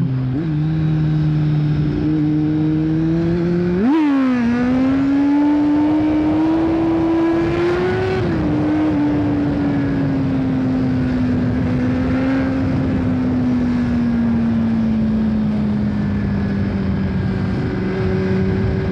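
A Kawasaki Z750 motorcycle roars loudly and close while riding, its engine note rising sharply with a quick rev and gear change early on, then holding a steady, slowly falling drone under wind noise.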